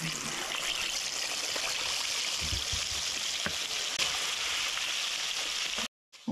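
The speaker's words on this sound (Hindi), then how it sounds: "अब इसको हम ऑयल में फ्राई करने के लिए डाल रहे हैं।" Marinated fish for an Arabic fish mandi fries in hot oil, a close, steady broadband sizzle that runs continuously before cutting off briefly at the very end.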